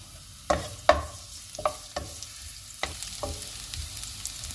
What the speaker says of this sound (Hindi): सबसे पहले हम ऑलिव ऑयल लेंगे, इसमें हम लहसुन डालेंगे और इसको हम 1-2 मिनट तक फ्राई करेंगे।